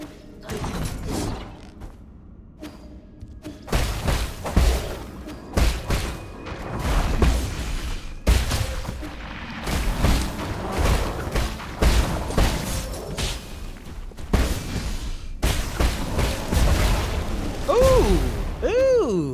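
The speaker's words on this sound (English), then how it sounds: "A little bit of explosions." Explosions in the video game Nine Sols come as a series of booming bursts and crackling pops, with mechanical creaks in the sparse gaps between them and some loud, overlapping blasts.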